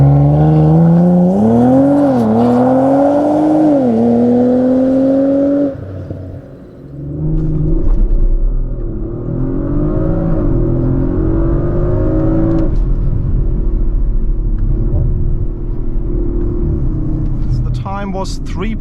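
A 2023 Audi RS5 Competition Plus launches under launch control, its engine note loud and close, climbing steeply in pitch through several quick upshifts, then droning on under continued hard acceleration.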